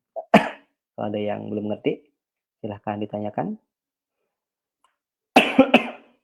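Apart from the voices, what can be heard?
cough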